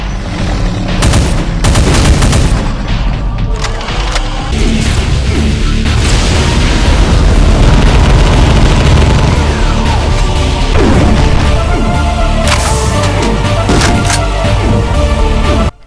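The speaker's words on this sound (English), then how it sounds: "Heavy railgun shots" Heavy railgun shots in a Doom mod, loud sharp blasts cutting through a dense, continuous barrage of booms and crashing combat noise.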